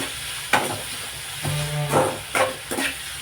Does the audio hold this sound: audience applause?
no